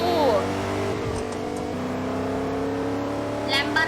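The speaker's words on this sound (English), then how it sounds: "Soap, you stole my Lambo." Lamborghini car driving in a video game, engine revving and droning close up with shifting pitch while people talk over it.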